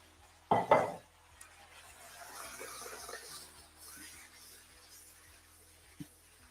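Mushrooms and onion tipped into a cooking pan for beef stroganoff, a sharp thud and clatter at the start, then a soft, low sizzle and scraping with a small knock near the end.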